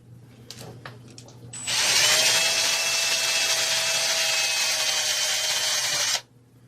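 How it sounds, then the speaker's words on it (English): A power drill whines steadily and loudly for several seconds, grinding through a metal plug on a Briggs & Stratton carburetor, then cuts off abruptly; faint clicks come before it. "I'm going to take my drill."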